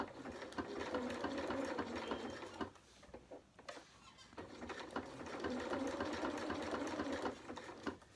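A sewing machine stitches fabric for triangle bunting, running in a fast, even mechanical patter that pauses briefly in the middle before starting again, close but fairly quiet.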